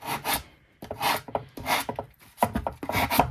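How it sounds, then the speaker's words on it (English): Sandpaper rubbed against paper for a 3D paper shadowbox craft, heard as short, close scratchy bursts of scraping with brief pauses between them. "Sandpaper, excuse me, not file."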